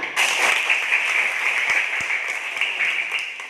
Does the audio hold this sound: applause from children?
yes